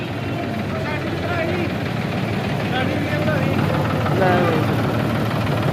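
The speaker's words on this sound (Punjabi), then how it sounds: "ਹਾਂਜੀ ਦੋਸਤੋ ਸਵਰਾਜ ਟਰੈਕਟਰ ਆ ਗਿਆ 973" A Swaraj 973 tractor engine idles close by with a low, continuous rumble, a slight swell near the end, and faint voices mixed in, at a tractor market.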